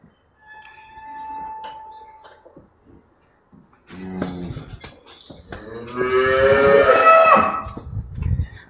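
Dairy-farm cows give several loud, drawn-out moos close by, one after another, with quieter stretches and barn noises between the calls.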